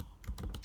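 A brief burst of a few quick key clicks as someone types on a computer keyboard, close and fairly quiet.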